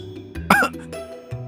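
A man sitting on a sofa drinking tea gives one short, sudden cough, fairly quiet and close, against a low steady background.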